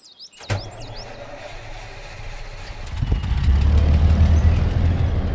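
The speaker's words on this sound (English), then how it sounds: "Listen to that engine. What a brute." A heavy off-road truck engine in the video game Spintires: MudRunner idles with a low rumble, then revs up louder and deeper, steady and close.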